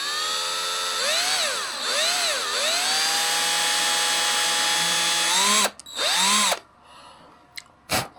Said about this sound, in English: I'm going to try to drill a hole right here.